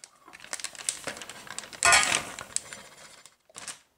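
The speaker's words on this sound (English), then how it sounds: "place the potato starch or cornstarch in a plastic bag." Potato starch goes into a plastic bag with a run of close crinkling and rustling, peaking in one loud crackle before settling into lighter rustles.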